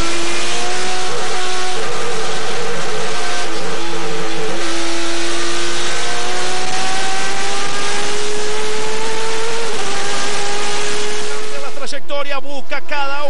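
Turismo Carretera race cars at the Olavarría circuit roar past one after another, their engine notes rising steadily in pitch as they accelerate. A race commentator talks continuously over the engines, and a sharp burst of mechanical noise comes near the end.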